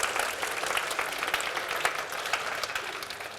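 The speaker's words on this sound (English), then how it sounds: "give yourselves a big round of applause" A PMO conference audience claps for itself, producing a steady, moderately quiet roar of many hands with a few sharper claps standing out, sustained without talk.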